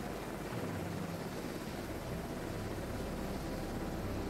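A helicopter in the House of Ashes video game gives off a constant broad rumbling roar, steady and fairly quiet, with no speech.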